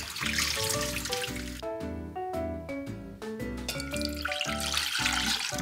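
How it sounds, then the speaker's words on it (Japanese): Red shiso leaves washed and squeezed out in water, giving trickling, splashing water with short dribbling bursts and pauses, close and fairly quiet. "きれいに洗ったら固く絞っておきます。"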